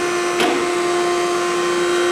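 An Okamoto ACC-16.32DX automatic surface grinder runs with its spindle and coolant oil on, producing a loud, steady machine hum with a sustained tone and a brief whoosh early on, with no voices.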